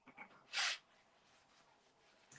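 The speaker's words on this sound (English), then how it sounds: "Oh, I'm going to sneeze again." A single sharp sneeze from a woman who has a cold, bursting out loudly and briefly after a few faint breaths, then quiet room tone.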